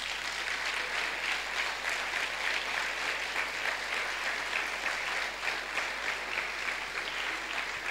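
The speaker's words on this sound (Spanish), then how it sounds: "¿No se merece un aplauso el Señor?" A church congregation claps together in sustained applause that stays dense and even, a continuous wash of many hands heard alone for about eight seconds.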